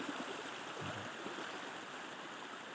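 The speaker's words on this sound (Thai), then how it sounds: "วันนี้เป็นทางน้ำปล่อยลงมาจากหมองน้ำพุครับ ก็ลงมาตาม ทลาดชั้นลงมานะครับ" Steady rushing of hot spring water flowing down a stepped stream channel below a spring pool at Pa Pae, Mae Taeng, Chiang Mai, a constant close wash with no talk.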